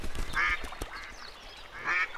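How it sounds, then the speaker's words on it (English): Cartoon ducks on a pond squawk in two raspy bursts, with fluttering and light scuffling sounds between them, all close and fairly loud in an animated film soundtrack with no speech. "he marched over to the pond to teach those ducks a lesson. But as he tried to sort them, they fluttered, squawked, and flew"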